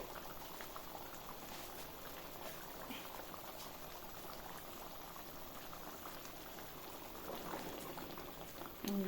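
Lahori chana gravy bubbles in a covered pot over a medium-high flame, a soft, continuous simmering burble with scattered pops, fairly quiet and close.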